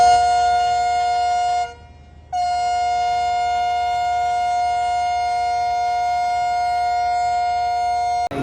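A Pakistani AG30 locomotive's loud, sustained multi-tone horn blares steadily, cuts out briefly for under a second, then resumes and holds until the end.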